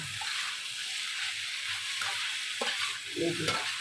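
Chicken and cashew nut salad with coriander leaves being tossed and mixed in a bowl, a soft continuous rustle and scrape with a few sharper clinks near the end.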